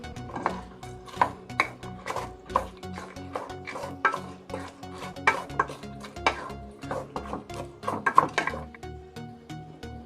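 Cabbage and mushroom tossed and stirred in a metal pan for roadside kaalan, with a steady run of close utensil scrapes and clatters against the pan and a faint sizzle underneath.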